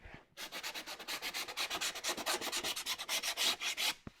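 Sandpaper rubs back and forth over wood in a steady run of about thirty quick, even strokes, close and alone, working on an old assembly table being turned into a miter saw station.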